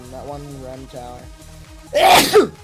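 A person talks briefly, then a sharp, loud sneeze bursts out near the end, close to the microphone.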